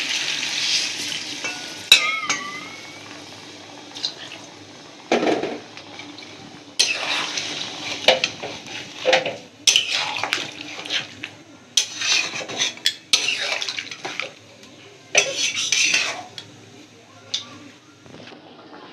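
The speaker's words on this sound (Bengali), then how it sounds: "এবারে জলটা দিয়ে দেবো।" Water is poured into a pot of browned mutton curry, giving a sizzling splash with scattered clatter and clinks of utensils and pot in several loud bursts.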